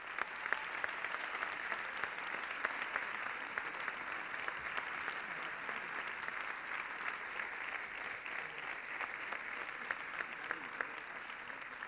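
A crowd applauds steadily at a sports awards gala, sustained clapping from many hands throughout, fairly distant and even.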